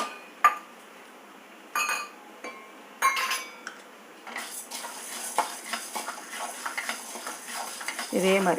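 Dal (chana dal and urad dal) dry-roasted in a pan, with scattered clinks and scrapes of stirring at first, then a denser rustling rattle of stirred lentils building toward the end, close and without talking.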